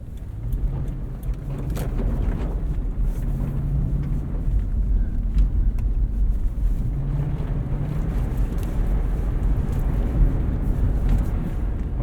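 A Lexus GX 460 on Cooper Discoverer AT3 4S tires drives over snowy, unplowed roads, a steady low rumble of engine and tire noise with wind buffeting the microphone throughout.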